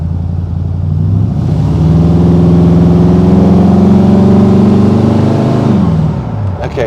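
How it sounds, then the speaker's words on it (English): A custom 1936 Ford Phaeton engine revs up under light throttle, its loud, close drone rising and holding before easing off near the end. "I need you to know that I just kind of barely hit the accelerator."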